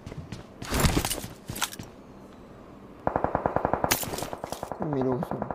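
Gunfire celebrating the New Year in a video game, a couple of loud single shots followed by a rapid burst of automatic fire with sharp repeated cracks, close and loud, with voices partly heard.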